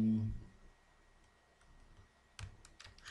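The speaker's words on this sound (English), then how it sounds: "Now I type in" Computer keyboard typing in an office software session, a quick burst of several near, crisp key clicks after a quiet stretch, with a soft thump at the start.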